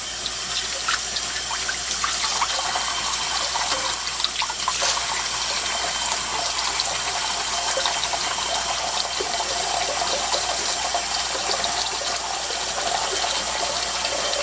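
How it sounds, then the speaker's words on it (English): Cold water pours steadily from a tap into a sink for rinsing, a continuous loud gushing stream with no pauses. "Put some cold water in here."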